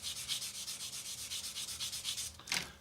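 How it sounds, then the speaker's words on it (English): Quick, even back-and-forth rubbing of a sanding sponge on a 1/72 scale plastic model aircraft part, a rapid rhythmic scrubbing close up that ends with a single heavier swipe. "So then what we do, pop in with our sanding sponge"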